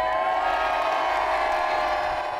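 Crowds at the annual St Patrick's Day parade in Dublin, a steady wash of distant cheering and shouting voices blending into a dense, sustained roar.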